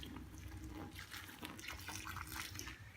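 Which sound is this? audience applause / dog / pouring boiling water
pouring boiling water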